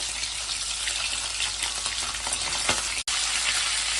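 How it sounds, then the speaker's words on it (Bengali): Hilsa fish head frying in hot oil with black cumin seeds and a few green chilies, giving a loud, steady, close sizzle and crackle that runs throughout with no talking. "মাছের মাথাটা আগে ভাজিনি কালো জিরোটা দিয়েই ভাজলাম"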